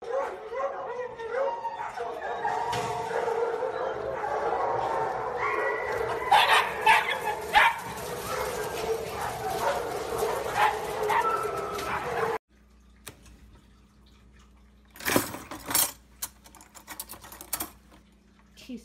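A dog yips and barks in short bursts alongside a boy on a swing, with varied clatter and voices, then quieter sharp yelps near the end.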